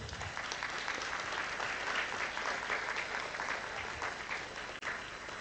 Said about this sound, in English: Please welcome all of them with a big round of applause.